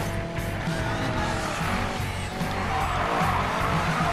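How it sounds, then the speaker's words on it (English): A car drifting in the racing game Need for Speed Payback, its tires squealing in a sustained, loud skid over a roaring engine for the whole stretch, with no speech. "Look at that drift going."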